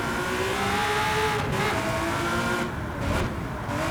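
A race car engine in Gran Turismo 7 holds a high revving whine through a corner, pitch shifting as it accelerates, with faint tire noise underneath.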